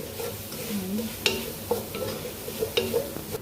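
Onion browning in a dry pan with no oil yet, a soft continuous sizzle stirred with a utensil, with a few sharp scrapes and clinks of the spoon against the pan.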